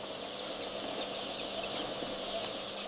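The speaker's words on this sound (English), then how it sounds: "After 21 days, thousands of chicks hatch almost at the same time." Thousands of chicks hatching together inside a poultry hatchery's hatcher make a dense, steady chorus of peeping and cheeping that carries on evenly, with no voices.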